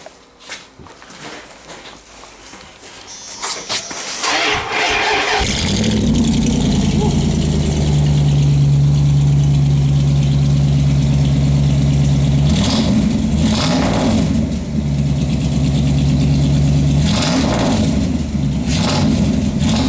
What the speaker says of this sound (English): So what was a single exhaust truck is now dual? Dual with an Xpipe.